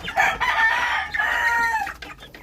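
Mixed-breed native chickens with a rooster crowing loudly and close by, a sustained cock-a-doodle-doo over clucking from the flock, with no talk.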